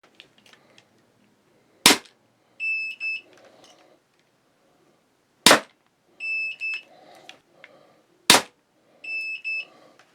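A Redback XR pistol crossbow fires bolts three times, each a sharp, loud crack spaced a few seconds apart, followed by short electronic beeps from a chronograph between shots.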